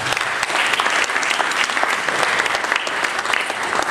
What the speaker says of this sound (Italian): per cui vorrei un applauso particolare